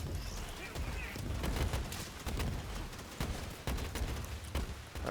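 Rapid gunfire in the video game Borderlands 3, with dense bursts of shots and booming impacts crackling continuously, loud and close throughout.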